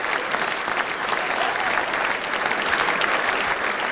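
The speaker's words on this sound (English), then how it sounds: "A big round of applause for Ben Hart." Audience applause for Ben Hart at the 1994 Adelaide Crows club champion event, a dense, steady wash of many hands clapping that holds at full strength throughout with no break.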